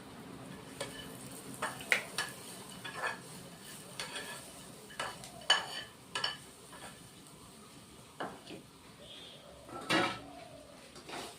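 Vegetables (drumstick, potato, eggplant, pumpkin) and lentil badi cooking in a pan, heard as scattered scrapes and clinks of a spatula against the pan over a faint background sizzle, with brief gaps between strokes.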